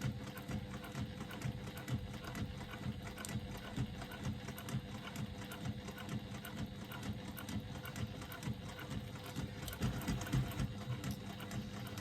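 Sewing machine stitching a bag seam with slightly lengthened stitches, a quiet, rapid mechanical whirring and clatter running steadily throughout, close but faint, with no speech.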